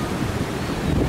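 Sea waves at Boulogne-sur-Mer in stormy weather, a brief, loud wash of surf mixed with wind rumble against the microphone, close and continuous.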